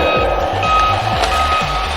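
A voice-controlled RC toy car reverses, sounding a loud, evenly spaced series of electronic reversing beeps, about four or five in two seconds, over a steady motor hum.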